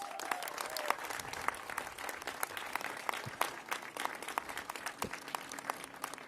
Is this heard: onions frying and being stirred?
no